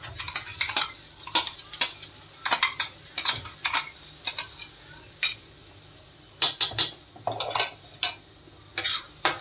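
A paste of tomato puree is poured into an oiled pan for a Marathi-style paneer gravy and stirred in, giving repeated scraping clinks of a spoon against the pan in short bursts over a faint sizzle, with no talking.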